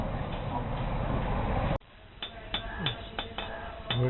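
In a small woodworking shop in Kathmandu, a noisy rush gives way to a string of sharp taps and knocks at an irregular beat, close by, with voices faintly in the background.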